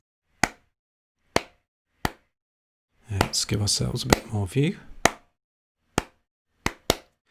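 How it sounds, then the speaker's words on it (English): Soloed clap drum samples in an Ableton Live project, several sharp, dry claps hitting singly and in pairs, with a stretch of talk in the middle. "We're going to also solo the claps this time."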